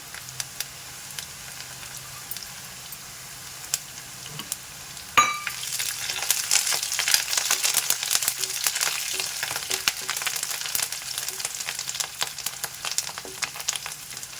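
Crushed garlic cloves and curry leaves drop into hot oil in a pan, setting off a sudden loud, crackling sizzle that keeps spitting and popping steadily after a quieter start, with no talking.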